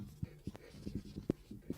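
Soft, close scratching strokes of handwriting, short irregular scrapes and taps spaced through a brief stretch, quiet and dry with no voice over them.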